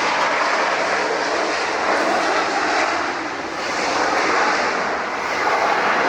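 A China Southern Airlines jet arrives at LAX, its loud, steady engine roar rolling across the whole stretch with slight swells as it passes close by, with no talking.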